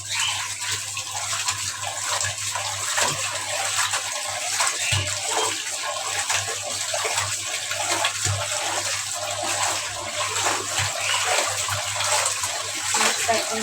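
Tilapia rubbed with salt is rinsed under running water, a steady close splash and gush continuing throughout with occasional knocks and clatters.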